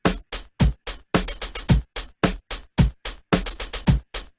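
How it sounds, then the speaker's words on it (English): A drum machine pattern of sharp, evenly spaced electronic hits with snare accents and quick bursts of clustered ticks, crisp and loud with short silent gaps between strokes and no voices. "I've recreated this pattern in this beat machine. It sounds like this."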